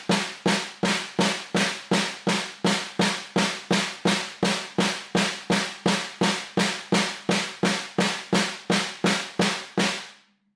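Even single strokes on a snare drum, one bar repeated four times, about thirty crisp, sharp hits in a steady rhythm, close and alone, with the last stroke left to ring out.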